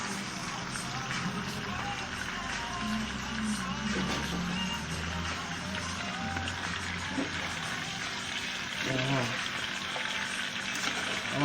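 Chicken frying in a pan with a steady crackling sizzle close by, broken now and then by stirring and clatter from a spatula, with some background noise underneath.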